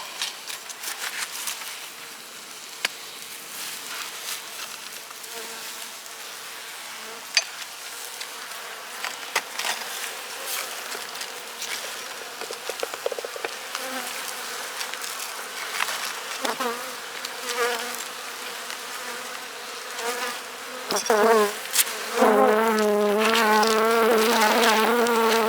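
Honey bees buzz continuously around an open beehive, a dense close swarm drone with individual bees whining past the microphone and growing louder near the end.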